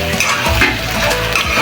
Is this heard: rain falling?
no